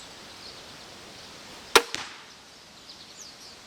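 A Raven R10 crossbow fires a bolt at a target in a quiet outdoor setting: one sharp, loud snap of release followed a split second later by a smaller thwack.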